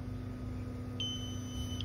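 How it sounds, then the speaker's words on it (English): An egg incubator's low temperature alarm gives a single thin, high electronic beep held for about a second over a steady low machine hum, fairly quiet and close. "your alarm will go off because it's low temperature alarm"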